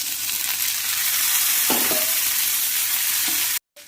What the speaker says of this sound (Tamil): வெங்காயம் வதங்கிடுச்சு இப்போ தக்காளி சேர்த்துக்கலாம்